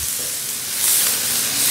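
White onions sizzle in a hot pan for loming Batangas, a steady, bright hiss of frying that swells slightly as it continues, with no talk over it.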